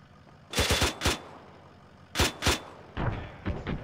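Machine gun fire in ARMA 3 from a mechanized vehicle, short sharp bursts of a few rounds each, separated by brief pauses, close and punchy with nobody talking.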